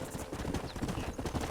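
Horse hooves clip-clop at a quick pace in the Red Dead Redemption video game, with a dense, rhythmic patter of footfalls throughout the short stretch.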